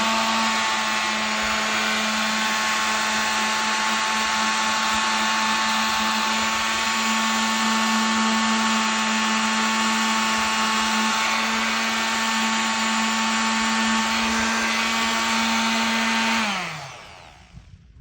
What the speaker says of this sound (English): take the sander and sand this down and smooth that. So once again, I have my palm sander here.